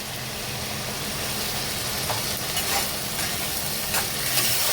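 Ginger paste and green chillies frying in a pan with onion and garlic, giving a steady close sizzle with faint stirring scrapes and a few brief clicks, no talk.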